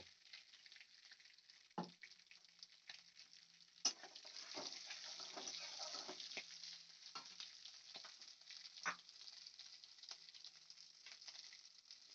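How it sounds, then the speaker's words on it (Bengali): A soft, steady sizzle of green chillies frying in oil, broken by a few sharp clicks and stirring sounds, with no talking. "এই তেলের মধ্যে আমি দিয়ে দেব সেরা কাঁচা লঙ্কা কাঁচা লঙ্কাটা আমি ভেজে নেব"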